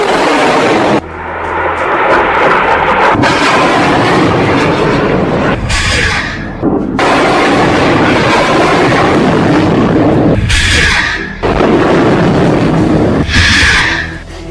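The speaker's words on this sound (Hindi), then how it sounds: "एक के बाद एक हमास 10 रॉकेट फायर करता है।" Hamas rockets launched one after another, a continuous loud roaring rush of rocket motors with sharp bursts and surges as successive launches fire, no voices.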